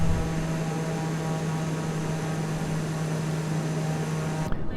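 Steady droning hum of a TBM 930 turboprop aircraft engine heard from inside the cockpit, a constant loud tone with whining harmonics that holds evenly and then cuts off abruptly near the end.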